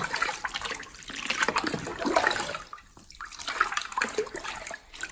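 Water scooped with a bowl and poured over a head during a head spa, a near, continuous splashing stream that dips briefly midway and resumes, with no talk.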